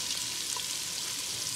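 Onions fry in hot oil with a little salt, giving a steady, close, hissing sizzle with no breaks and no voices.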